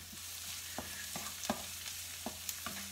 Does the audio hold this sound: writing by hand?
no